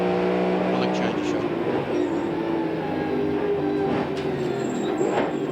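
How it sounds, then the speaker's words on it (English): Ford Falcon touring cars racing at Oran Park in 1994, engines roaring past with rising and falling tones as they sweep by, under a commentator's voice. "the battle between the two Fords continues with Glenn Seaton and the Peter Jackson Falcon"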